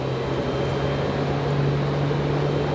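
An Air Canada Jazz E175 arriving from Toronto at Raleigh-Durham airport gives off a steady, loud engine roar with a constant low hum throughout.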